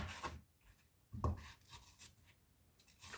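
A kitchen knife slicing out the core of a vegetable on a board, heard as a few close, soft scraping and cutting strokes with brief pauses between them, quiet and without talk.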